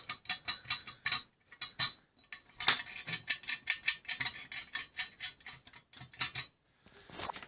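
A fruit machine running through its reset after a note acceptor has been fitted, producing rapid rhythmic mechanical clicking and whirring, like reels and ratchets cycling in quick bursts with short gaps.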